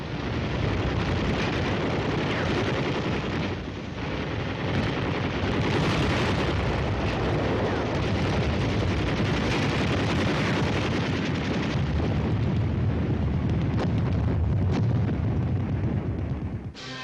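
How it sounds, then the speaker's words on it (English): Continuous heavy gunfire and explosions from an army night assault demonstration, a dense unbroken roar of bursts and booms lasting the whole stretch, loud and sustained with no voices. "With darkness comes a night assault demonstration, very aptly called the Mad Minute."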